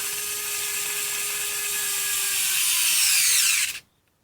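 Kobalt 4V cordless electric screwdriver running a torque test: a loud, steady motor whir with a ratcheting clutch buzz holds for nearly four seconds, rising slightly, then cuts off abruptly.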